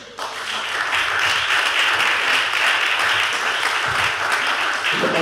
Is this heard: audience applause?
yes